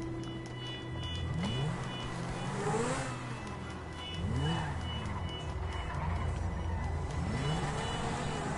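A car engine revs repeatedly in a street-driving video game, rising and falling in pitch several times against steady, loud background game noise.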